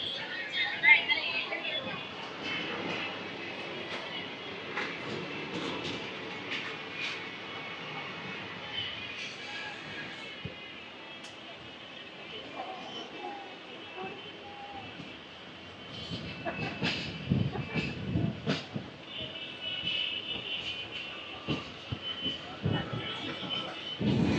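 Thiruvananthapuram Intercity SF Express train running fast at speed, a steady rumbling roar with intermittent clacks and rattles, heard from inside a coach as people talk faintly.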